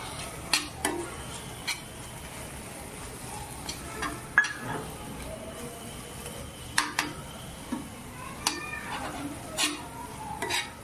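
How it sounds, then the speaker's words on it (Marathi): Green peas frying in roasted masala in a pan give a low steady sizzle, broken by sharp scattered clicks and taps of a spoon stirring against the pan. "आता आपण त्याच्यामध्ये मटर फ्राय करून घेऊया"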